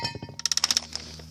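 A brake rotor from a 2011 Dodge Durango's front brakes set down on a hard surface, giving a quick run of about seven bright metallic clinks close by, then a faint ring.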